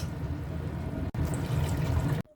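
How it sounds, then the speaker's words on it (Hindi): Water poured into cooked masala in a pan while making moth dal kofta curry, a steady loud rushing and splashing pour with a brief break midway, ending abruptly. "अब इसमें पानी डाल देंगे।"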